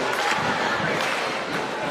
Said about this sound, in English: If you can hear a little beat on the camera, that is the Hilo side of the bleachers.